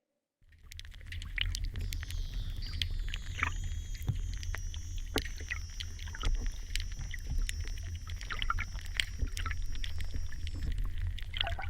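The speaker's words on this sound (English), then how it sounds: "we have some gentle water and snapping shrimp" Gentle water in Newcastle Harbour laps softly under a dense crackle of snapping shrimp clicks, with a faint thin whine running through the middle of the clip.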